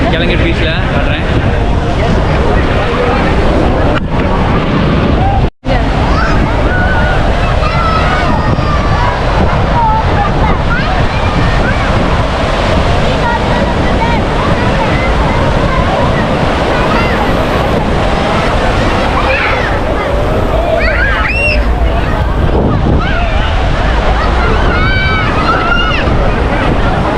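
Surf rolls in at Calangute Beach in Goa on a crowded Sunday evening, a constant loud roar of breaking waves. Heavy wind buffets the microphone throughout, and faint voices come and go beneath it.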